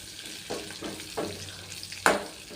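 Curry leaves frying with roasted coconut in a pan for a carrot erissery make a soft sizzle with a few stirring strokes, then one sharp, close crackle near the end.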